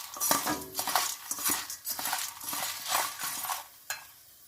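Fried dal being tipped from a frying pan into a dish, with close, quick metallic clinks and scrapes of utensil against cookware, a soft sizzle of hot oil underneath, and no talking.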